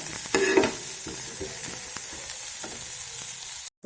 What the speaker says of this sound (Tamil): நல்லா வெங்காயம் வந்து லைட் ப்ரௌன் ஆகிற வரைக்கும் நல்லா வதக்கணும்.